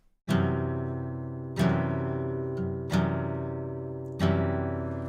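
Four strummed chords on a right-handed guitar played upside down by a left-handed player, each ringing out then restruck, with a dull, slightly muted and off-sounding tone from a poorly fingered D shape.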